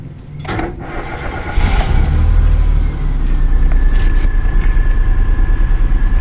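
A 2017 Nissan Almera engine, with a fault giving no drive or reverse, catches and settles into a loud, steady rumbling idle with a rapid pulsing rhythm, heard up close.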